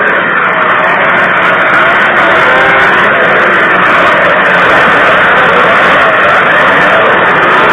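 Big 800 class snowmobiles racing at the Western Snowmobile Roundup championship, a loud, dense, distorted roar of multiple engines droning continuously at close range.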